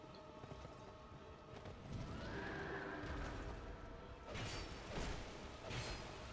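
In Dark Souls II: Scholar of the First Sin a horse whinnies amid hoof clatter and heavy mechanical clanks, the neigh rising midway and swooshing combat sounds following, quiet and without speech.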